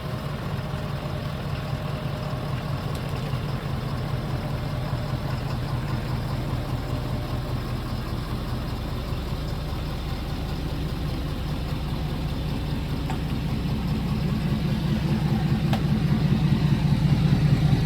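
A Ford Super Duty pickup truck with a newly installed leveling kit runs steadily with a deep, throbbing idle close by, growing louder toward the end as it is driven outside.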